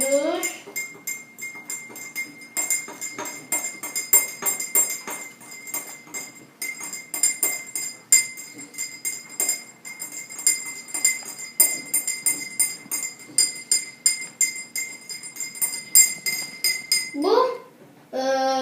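A teaspoon stirs sugar into hot water in a glass, producing a dense run of rapid metallic clinks and taps against the glass that continues steadily for most of the stretch, close and fairly loud.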